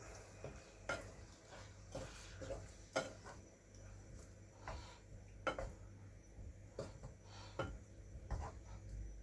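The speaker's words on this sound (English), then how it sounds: "I'll just stir that in. Don't want to break it up." Cooked lamb is stirred gently into a curry sauce in a pan: quiet, irregular scrapes and soft utensil taps against the metal over a low background hum, faint and close.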